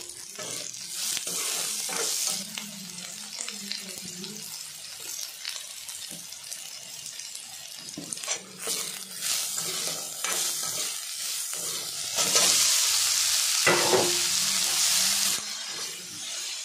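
Chopped onion, green chili and garlic frying in the oil left from frying fish, for a leafy greens dish, with a steady close sizzle, repeated stirring scrapes and a louder hissing surge near the end.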